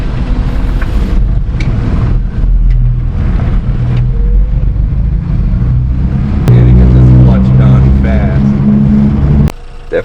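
Small mini truck engine idling after a valve and timing adjustment, a steady low rumble throughout with a louder, rougher surge near the end; people talk over it.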